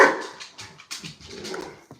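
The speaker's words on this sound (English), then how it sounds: "So I'm just trying to keep the barking out." A dog barks and yips in quick, excited bursts close by, with whimpering sounds mixed in.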